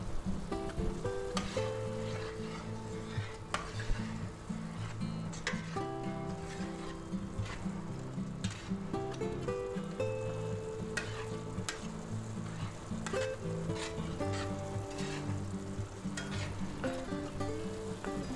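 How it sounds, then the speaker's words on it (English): Shrimp and lobster sauce with frozen peas, carrots and green onion stems simmering in a large cast iron skillet, a steady close bubbling sizzle with soft stirring scrapes, continuous throughout and without speech. "now we want to bring that back to a simmer like it is now"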